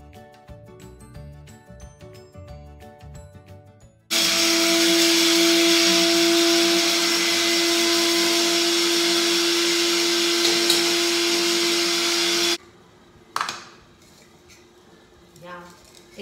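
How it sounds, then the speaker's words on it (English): An electric grinder pulverises cardamom (elaichi) into powder, a loud steady whirring roar lasting about eight seconds and ending abruptly, with a person talking and clattering around it before and after. "So I'm adding elaichi. You have to grind it."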